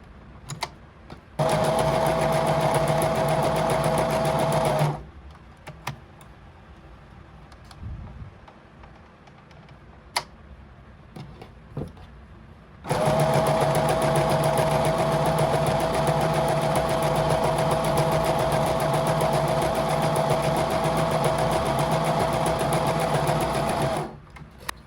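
Sewing machine stitching a crochet bag lining runs in two long, steady whirring bursts, close and mechanical, separated by a quieter pause filled with light handling noises.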